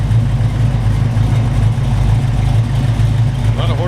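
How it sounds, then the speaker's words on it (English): A 1969 Chevrolet Camaro COPO tribute, warmed up but still cold-blooded, idles loud and close with a deep, steady rumble, and a voice talks briefly over it. "we got it warmed up for you a little bit here and got it running."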